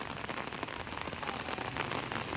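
Heavy monsoon rain pours steadily onto surfaces during flooding in a Philippine province, a dense continuous hiss with no voices.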